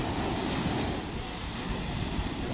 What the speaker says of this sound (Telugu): అలలు మాత్రం బాగా వచ్చినాయి